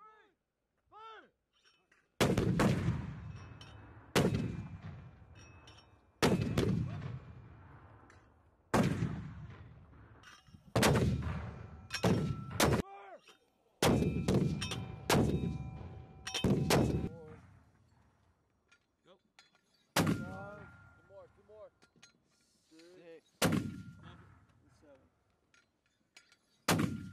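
Marines fire live mortar rounds at a forward-deployed range, about a dozen loud, sharp booms spaced a few seconds apart, each followed by a rumbling decay and echo; no speech is heard between shots.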